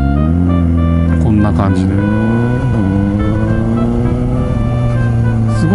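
A Suzuki GSX-S750 motorcycle pulls away from a stop, its engine droning steadily and close with small rises in pitch as it moves off, under continuous talk from the rider.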